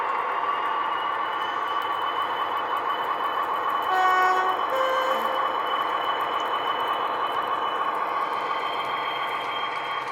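A sound-fitted model Class 41 Warship locomotive pulls away, a steady diesel engine drone with a brief horn-like tone partway through, continuous and fairly close, with no talking.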